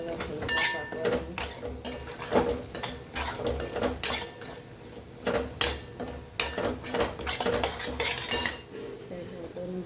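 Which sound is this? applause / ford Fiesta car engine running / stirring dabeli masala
stirring dabeli masala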